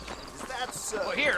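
Horses clip-clop in the Western video game Red Dead Redemption, a short burst of hoof beats mixed with other game sounds.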